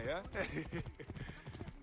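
Horse hooves clip-clop quietly in Assassin's Creed Origins, a quick running rhythm that sits low beneath someone speaking a short exclamation.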